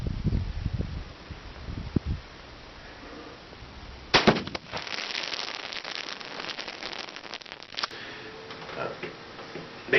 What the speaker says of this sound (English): we stuck as many of them as we could fit onto a bunch of fireworks and then shot the pile of fireworks and set it off